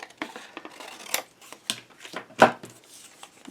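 Scissors cut straight down through a large folio of craft paper, making a close series of crisp snipping and rustling crunches in uneven bursts, with one sharper louder snip partway through.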